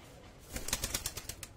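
Old-lineage fort pigeons in a loft give a quick burst of wing flaps, a run of soft rhythmic beats lasting about a second, close but faint.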